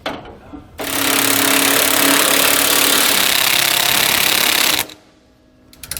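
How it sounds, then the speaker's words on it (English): A power ratchet or impact tool drives a 19mm socket, tightening anti-sway bar hardware on a 2018 Ford E-Series cutaway, one loud continuous burst of about four seconds, close, with quiet shop noise before and after. "We can now go back and tighten down our hardware with a 19mm socket and wrench."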